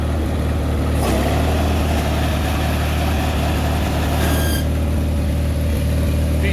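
A 318 garden tractor fitted with a 49 snow blower runs steadily nearby, its engine giving a loud, constant low rumble with a brief higher whine from the blower, and no one talking.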